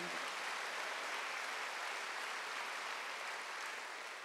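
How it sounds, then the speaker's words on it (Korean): A church congregation at a Sunday worship service claps together, a faint but steady, even wash of many hands with no pauses. "박수하세요."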